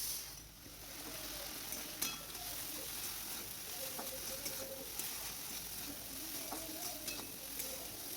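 Ginger-chili paste frying in a pan, a steady close sizzle with occasional stirring scrapes and light clinks of a utensil throughout.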